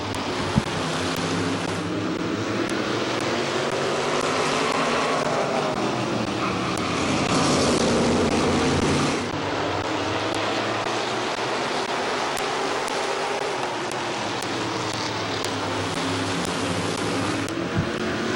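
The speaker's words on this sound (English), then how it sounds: "Side by side racing with Passwater Jr. and Chuck Elkins" Race cars run side by side at Midvale Speedway, a steady, loud, dense engine roar that swells briefly and never lets up for the whole stretch.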